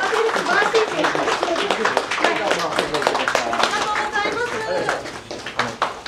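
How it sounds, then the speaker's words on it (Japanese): An audience claps for a speaker at a seminar on shelters and civil protection, a dense run of hand claps that fades toward the end, with some voices underneath. "改めて拍手をお願いいたします"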